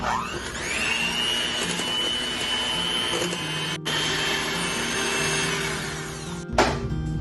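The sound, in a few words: electric mixing of whipping cream for peach ice cream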